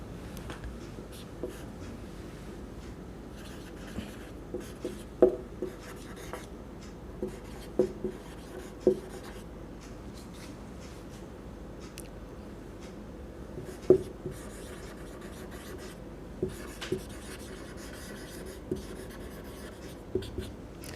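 A pen scratches across paper in short strokes with irregular taps and pauses, close and clear with no talk over it, as integer sums for a class 7 maths exercise are written out.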